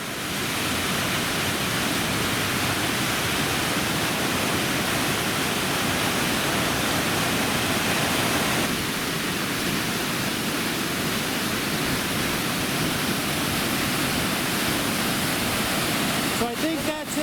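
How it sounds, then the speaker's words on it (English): Waterfalls on the Tuolumne River roar in a loud, steady, broadband rush that fills the whole stretch without a break, with a faint voice under the noise. "Here come the waterfalls."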